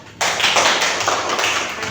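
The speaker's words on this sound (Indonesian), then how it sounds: "Tepuk tangan untuk ketiga teman kita." Students in a classroom clap their hands for classmates, a dense burst of clapping that starts abruptly and continues steadily, loud and close, with no talk over it.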